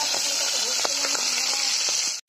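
Boiled potato pieces frying in hot oil in a kadai, a steady loud hiss and sizzle with scattered crackles and pops running continuously close up, cutting off abruptly at the end.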